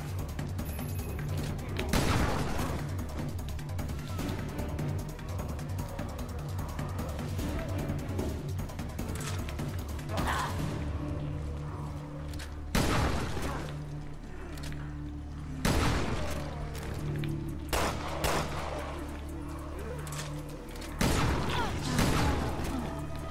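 Special weapon fire in the video game Resident Evil Revelations 2: several loud, sharp bursts spread through the clip over a continuous bed of game ambience and music.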